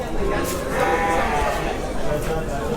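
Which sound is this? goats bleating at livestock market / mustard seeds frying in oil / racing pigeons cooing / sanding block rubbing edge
goats bleating at livestock market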